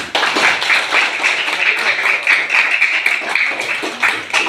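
Students in a religious studies classroom lesson break into brisk, bright group clapping that continues steadily for several seconds, close and loud.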